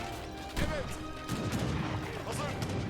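Ottoman units fire a musket volley in Age of Empires 3: sharp gunshot cracks and crashing impacts burst out in two clusters over a busy battle din, with a commentator's voice under it.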